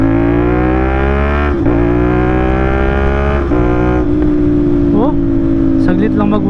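CF Moto NK450 motorcycle engine revving hard at close range, a loud steady harmonic drone climbing in pitch with several sharp blips and gear-like shifts throughout.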